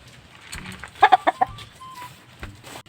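A rooster gives a short burst of loud, clipped clucks, four or five in quick succession, over faint background noise.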